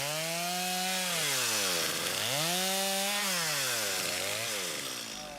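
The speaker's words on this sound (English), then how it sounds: "If you imagine the chainsaw wasn't here, you know how difficult boat building really was in the past." A chainsaw cuts into wood for boat building on a Newfoundland shore, its engine pitch rising and dropping in several strong sweeps as it bites and eases off, loud and close before tapering at the end.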